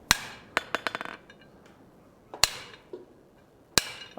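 Hammer blows forging the corners off a 1/2 inch square steel bar on an anvil: sharp ringing metallic strikes, a quick run of hits early, then two isolated loud blows spaced apart, with quiet between.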